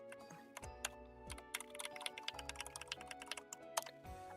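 Rapid typing on a computer keyboard, a quiet flurry of close key clicks in quick uneven bursts with a few louder taps, no talking.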